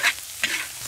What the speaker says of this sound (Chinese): 再下入辣椒，好嘛？ 下入牛肉丝，